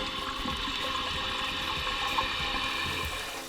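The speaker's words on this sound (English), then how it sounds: "Turn the water back on and fill the tank." Toilet tank refilling through its fill valve after a flapper replacement on a running toilet, with water spraying from the top of the faulty valve; a continuous rushing, hissing stream of water flows steadily and close by, with no talk.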